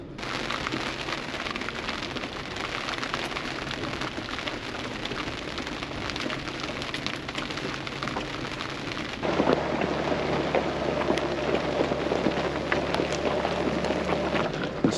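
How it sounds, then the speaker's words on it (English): Rain falls steadily on a narrow, twisty mountain shelf road, a dense hiss of drops that continues throughout, with a low vehicle rumble growing heavier partway through. "It just started raining."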